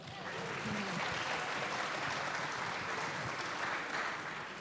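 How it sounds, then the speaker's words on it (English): A conference audience applauds, a continuous wash of clapping heard from a distance and fairly faint, holding steady throughout with no voices on top. "Let's give them a round of applause."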